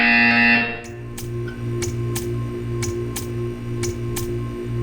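A short electronic buzzer tone in the Portal 2 video game, followed by a steady row of sharp, evenly spaced ticks over a constant low mechanical hum.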